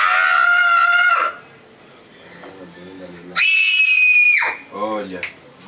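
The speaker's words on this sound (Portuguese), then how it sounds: "É esse grito mesmo. Grito da vitória." A person lets out a long, loud victory scream on a film set, cut off abruptly, then another sustained shriek after a short pause filled with quieter voices.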